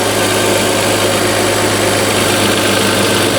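An Audi A4 Cabriolet 2.4 V6 engine with new spark plugs idles smoothly and steadily at close range, a constant low rumble with an even hum and no talking.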